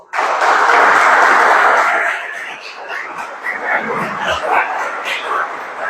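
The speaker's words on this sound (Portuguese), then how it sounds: "Você pode aplaudir o Senhor?" Church congregation applauding, a loud burst of clapping that eases after two seconds into scattered claps mixed with crowd voices and murmuring.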